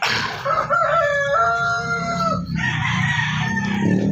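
A Texas and labuyo junglefowl crossbreed rooster crows loudly and close by in one drawn-out call, followed by clucking, with other fowl sounding in the background.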